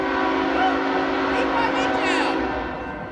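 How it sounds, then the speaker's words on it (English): BNSF freight train number 6547 passing close by with its horn sounding, a loud sustained multi-tone blast over rolling rail rumble that fades slightly toward the end. "This train has priority."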